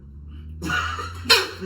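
A single abrupt sneeze bursts out close by, short and sharp, after a moment of low background hum.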